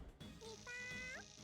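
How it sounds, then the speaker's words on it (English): A cat meows twice, softly and fairly close: a short, quick mew followed by a longer, rising and falling meow over a quiet background hum. "that was a cat"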